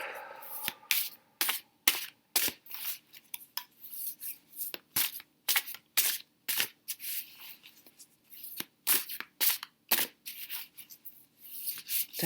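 Tarot cards shuffled in a quick, close sequence of soft slaps and riffles repeating every half second or so, fairly quiet, with no talking.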